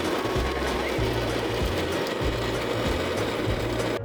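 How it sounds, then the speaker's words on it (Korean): A burr coffee grinder set to a medium grind of 22 crushes beans for a home pour-over, giving a steady, loud mechanical grinding with a low rhythmic churn and no voices. "이제 원두를 갈아줍니다."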